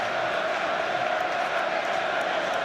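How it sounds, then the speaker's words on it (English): Large crowd of Leeds United fans roaring and chanting at an FA Cup third round replay against Arsenal, a dense, steady wall of distant stadium noise. "those vociferous Yorkshire folk in the crowd demand more as well"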